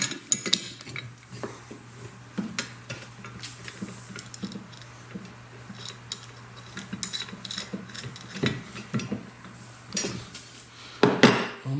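Metal hardware on a Bora Portamate PM-1100 mobile base kit: a nut with built-in washer turned onto a caster's threaded stud, giving repeated small ratcheting clicks and clanks, close and moderately loud, with a sharper clatter near the end.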